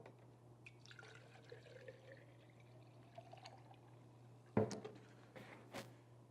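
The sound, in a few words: pouring cleaning solution into a mason jar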